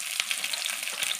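Onions sizzle in hot oil in a wok, producing a bright, crackling, steady fry with small pops, close up and alone.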